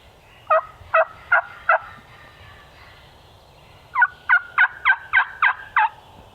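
Wild turkey gobbling outdoors during a hunt, two bursts of rapid rattling gobbles, the first of four notes and the second a longer run of about eight, moderately loud and carrying over a quiet background with no talk.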